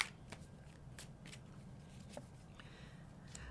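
Tarot cards being shuffled and drawn by hand, a soft, close series of quick riffling and sliding taps, faint and dry, with no talking.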